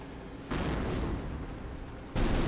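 Mortar artillery fire in the WWII strategy video game Company of Heroes: two heavy, sustained booming blasts rumble loudly, one after the other, with no talk over them.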